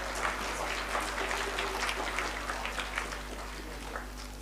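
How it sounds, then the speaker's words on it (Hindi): An audience at a religious gathering with qawwali gives soft, steady applause to welcome a Pir Sahib, a faint, continuous patter of claps over a low electrical hum. "आप सबकी भरपूर मैं समझती हूँ तालियां ही बजा के इस्तकबाल कर दें पीर साहब का"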